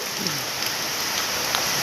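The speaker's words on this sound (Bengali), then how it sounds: "আমাদের মুর্শিদাবাদের বৃষ্টি চলে এসেছে চেন্না শহরে" Steady rain falls and patters on a surface in Chennai, with a few louder drops standing out in the continuous hiss.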